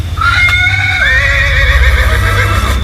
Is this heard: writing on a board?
no